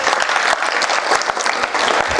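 A crowd at a Shiv Jayanti farmers' event breaks into dense, continuous applause, many hands clapping loudly and evenly for the full stretch with no pause.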